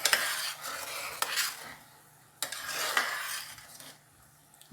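Cashew paste is stirred into butter chicken gravy in a pot: two long bursts of wet, close stirring and scraping with a soft sizzle beneath, separated by quieter pauses.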